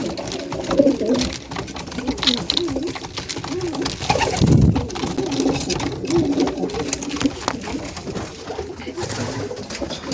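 Pigeons coo steadily in the lower section of a loft, soft throaty calls overlapping with a low hum and some rustling, with a faint voice now and then.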